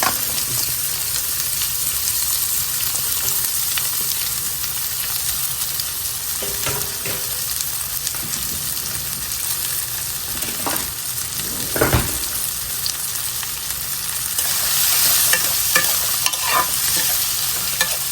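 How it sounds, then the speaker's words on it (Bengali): A large onion frying in mustard oil in a pan, with a loud, continuous sizzle, stirring scrapes and a few clinks from a utensil, growing slightly brighter near the end; no one speaks. "প্রথমে আমি দিয়ে দেব সরিষার তেল। একটা বড় পেঁয়াজ কষা দিয়ে দিলাম।"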